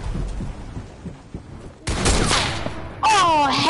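Video game gunfire pops in a few sharp bursts, first faint and scattered, then louder cracks near the end, mixed with game ambience and a brief tonal sweep.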